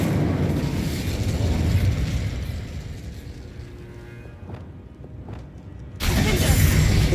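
A fire spell cast in the video game Hogwarts Legacy: a loud, roaring whoosh of flame and crackle that eases off in the middle, then a sudden bright blast returns near the end.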